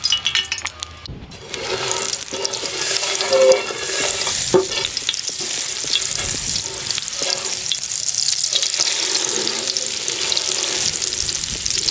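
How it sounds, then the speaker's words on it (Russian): Eggplant slices frying in a mix of vegetable oil and butter, a loud continuous sizzle that starts with a sharp splash as the pieces go in, with clinks and stirring scrapes throughout. "И баклажаны наши, друзья, мы сейчас должны обжарить. Значит, обжариваем на растительном, на смеси растительного и сливочного масла."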